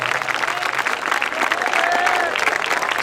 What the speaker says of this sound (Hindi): एक बार आप साबिया जी के लिए जोरदार तालियां बजवा दो।